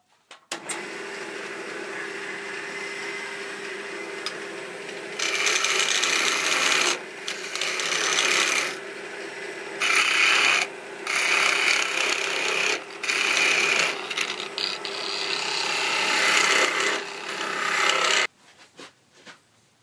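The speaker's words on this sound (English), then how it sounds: "I'm now going to just come in with my small spindle gouge and take this down and cut it all the way off" A small spindle gouge cuts mesquite wood on a lathe while a lidded box is being turned. The cutting rasps loud and close, in repeated bursts broken by short pauses, over a steady motor hum.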